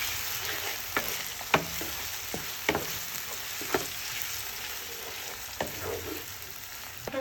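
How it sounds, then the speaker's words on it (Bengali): Paste of ground onion, coconut and nuts frying in a pan, a steady soft sizzle broken by several sharp scraping clinks of a spoon stirring, fairly quiet and close, with no talking. "পেঁয়াজ বাটা দিয়ে দিচ্ছে, নারকেল বাদাম সব একসাথে বাটা দিয়ে দিচ্ছে। এগুলোকে ভালোভাবে কষাবে"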